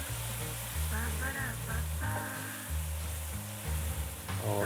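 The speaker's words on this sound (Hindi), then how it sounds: "इसको थोड़ा सा हिला लेंगे। अच्छी तरह इसको मिक्स कर लेंगे" Beef keema frying in a karahi with garam masala, a continuous loud sizzle with stirring scrapes throughout, close up, with some faint background hum and no talk.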